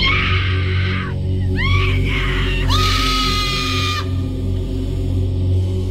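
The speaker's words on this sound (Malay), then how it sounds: "saya terdengar bunyi pekikan. Bunyi suara pekikan yang agak kuat datang daripada kawasan bangunan" Loud, drawn-out screaming sound effect for a late-night radio mystery story, a piercing scream with sliding pitch repeating over about six seconds above a constant low hum.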